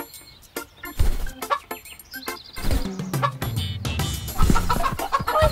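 Chickens cluck and squawk in bursts, close by, with a few sharper calls and some rustling between them.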